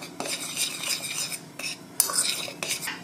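Spelt bread dough is mixed with salt in a bowl, making bursts of scraping and clinking from the utensil against the bowl with brief pauses between strokes, close and moderately loud with no talk.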